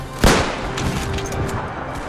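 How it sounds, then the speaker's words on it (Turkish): Gunfire in Mount & Blade: Warband, in a World War I battle mod: one loud, sharp shot rings out close, followed by a rumbling wash of distant battle noise. "Ben de sıkıyorum abi artık yavaştan."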